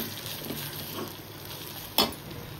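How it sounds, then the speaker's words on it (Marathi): Poha being mixed in a frying pan for kanda pohe, a soft steady scraping and sizzle with one sharp utensil clack near the end. "पोहे व्यवस्थित मिक्स करून घेऊया।"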